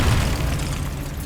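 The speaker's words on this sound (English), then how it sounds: "Bombarda!" The Bombarda explosion spell in the video game Hogwarts Legacy, a loud, deep booming blast with a rumbling low end that fills the short moment with no speech.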